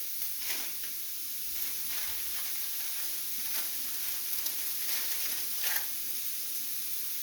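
Lasagna noodles going into a skillet of boiling sauce, a steady sizzling bubble throughout with a few soft splashes and clatters breaking through, no talking.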